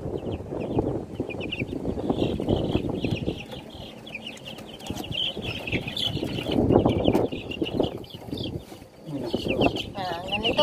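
Silkie chickens cluck and chatter close by in a busy farmyard, with occasional wing flaps and people talking underneath.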